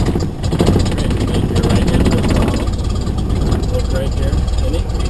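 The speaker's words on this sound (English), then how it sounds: "And go ahead and crank. And when the engine kicks over, push the mixture in rich and let go of the key." A light aircraft's piston engine cranks and settles into a steady idle, its low rumble running loud and close in the cockpit throughout, with an instructor's voice talking over it.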